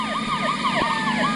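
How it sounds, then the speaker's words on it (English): Police sirens wail in the video game Grand Theft Auto III, with several overlapping rising and falling tones that hold steady and fairly loud throughout, with no talk over them. "There he goes off so we can hear the sirens."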